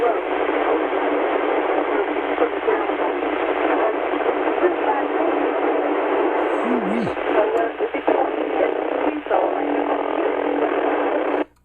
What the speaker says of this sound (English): I got a lot of noise coming in on this frequency, and the noise was covering you up